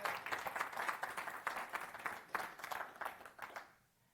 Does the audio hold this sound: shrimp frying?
no